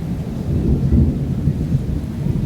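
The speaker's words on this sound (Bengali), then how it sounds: "আকাশে প্রচুর শব্দ হচ্ছে, প্রচুর বজ্রপাত হচ্ছে।" Deep thunder rolls and rumbles through steady heavy rain, a loud low roar that swells and fades across the whole moment with no voices.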